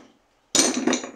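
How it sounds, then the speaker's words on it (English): A hammer from a tool collection set down once, a sharp metallic clank with a short ringing tail after a moment of silence. "That's hammer."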